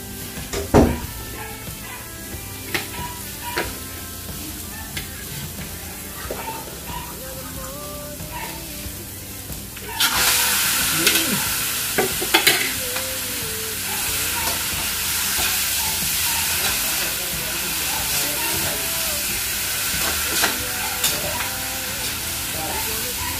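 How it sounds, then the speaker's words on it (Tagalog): Garlic and meat frying in a home kitchen pan, a quiet sizzle with scattered stirring clatter that turns into a louder, steady hiss as the meat goes in, with occasional scrapes and brief voices. "Okay, brown na yung bawang. So, saka natin ilagay yung karne"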